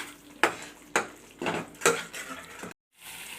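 A spoon stirring turmeric and salt into an Afghani-style egg curry in a pan, giving four distinct scraping, clinking strokes in an even rhythm over a low sizzle, close and fairly loud, with a brief silent gap near the end.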